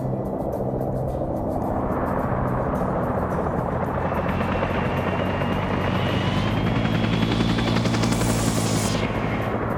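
Helicopter in the Arma 3 game with the SOG Prairie Fire expansion: a loud, steady rotor thump with rising turbine whine, close and continuous for the full length, with faint gunfire underneath.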